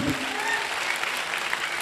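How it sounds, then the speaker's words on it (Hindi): An audience applauds for Dr Shiv Kumar Guruji at a business talk, with dense, loud, continuous clapping throughout the short moment. "मैं चाहूंगा डॉक्टर शिव कुमार गुरुजी के लिए एक जोरदार तालियां होनी चाहिए"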